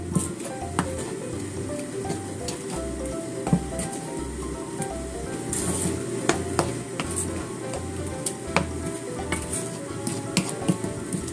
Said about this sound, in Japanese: はい、ちょっと炒めていきますね。